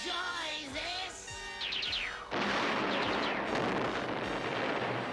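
Cartoon explosion from a 1980s animated Transformers episode blowing robots apart: a loud, sustained crashing roar with rumbling debris that swells after a brief lead-in of synthetic effects, alone without talk.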